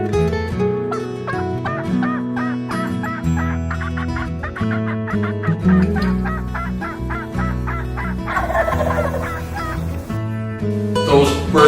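Wild turkeys in an Ontario field at springtime: repeated warbling gobbles from several birds with a hen's clucks and yelps mixed in, steady and fairly loud throughout.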